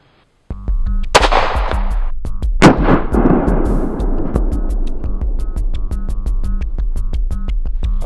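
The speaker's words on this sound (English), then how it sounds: "I'm going to load the magazine with one of the 9mm G2 rounds, and we're going to fire one shot into the vest" A 9mm G2 Research R.I.P. round fired at a level 3A body armor vest produces loud, sharp gunshot blasts with ringing decay, heard over a steady rhythmic mechanical ticking background.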